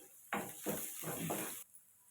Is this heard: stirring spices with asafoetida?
yes